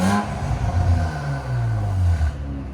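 An Infiniti Q60 3.0L twin-turbo V6 with an aftermarket exhaust revs loud and close, the pitch sweeping up and falling back, then settling into a deep idle rumble.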